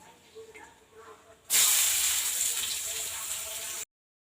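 Cumin seeds, onion and garlic hit hot oil in a pan with a sudden loud, sustained sizzle that starts abruptly after a quiet moment and hisses steadily until it cuts off, with no talking.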